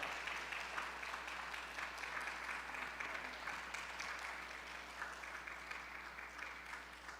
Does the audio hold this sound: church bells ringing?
no